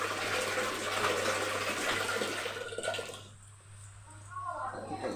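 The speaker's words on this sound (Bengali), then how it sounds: "একটু গরম জল দেবো। বাটিটায় আমি একটু জল বসিয়ে দিই।" Hot water pours into a bowl while cooking a spiced chicken dish, a steady splashing gush for about three seconds that cuts off into quieter kitchen noise, with a voice speaking over it.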